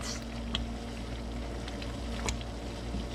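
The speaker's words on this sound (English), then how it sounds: "Okay, so this is boiling point." A pot of liquid for tamales bubbles at a low, steady boil, with soft pops and gurgles close by and no talking.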